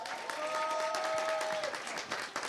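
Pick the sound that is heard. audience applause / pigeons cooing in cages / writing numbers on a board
audience applause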